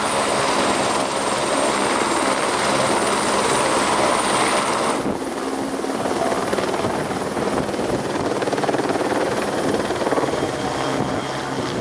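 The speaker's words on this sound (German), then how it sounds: "Heute gab es eine coole Helikopteraktion und so weiter mit einem Reifen und Co." A helicopter flying a stunt with a tire drones loudly and continuously nearby, its roar shifting in tone partway through, with no talking.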